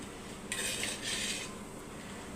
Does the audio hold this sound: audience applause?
no